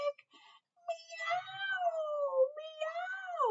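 A voice imitates a cat's meow with several drawn-out, wavering mewing calls, close and clear, on a children's craft show.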